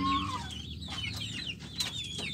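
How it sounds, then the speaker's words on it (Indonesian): A chicken clucks repeatedly at close range, a run of short, rising and falling calls with no talking. "tuh ada satu ini ayam"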